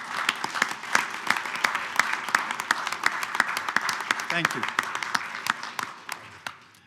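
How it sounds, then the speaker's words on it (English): A round of applause at a board meeting: many hands clap in a sparse, uneven patter from a modest room of people, with a voice briefly speaking over it. "join me in a round of applause"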